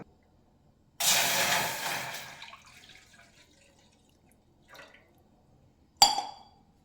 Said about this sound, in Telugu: మన దగ్గర ఉన్న 1/2 లీటర్ మిల్క్ని అయితే ఇందులో అయితే వేసుకోవాలన్నమాట